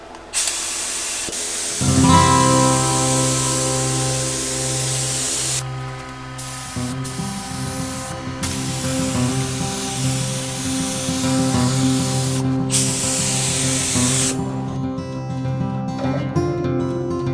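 A spray gun lays a first coat of paint on a motorcycle gas tank, giving a loud, steady compressed-air hiss that stops and restarts in several bursts, with a compressor hum beneath; no one talks.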